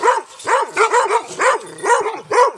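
Dogs bark in a rapid, uneven series of close, loud yelps mixed with whines and whimpers, about seven or eight sharp bursts in quick succession with no speech over them.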